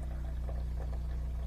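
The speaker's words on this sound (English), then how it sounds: "I was supposed to be pouring lots in the coffee." Hot water poured into a French press for morning coffee at a campsite, a steady soft splashing hiss over a constant low hum, with no one talking.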